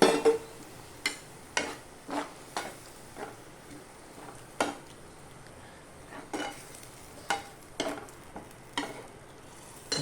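Egg curry sizzles softly in a pan after water is added, with a spoon clacking against the pan in regular stirring strokes over a steady low hiss.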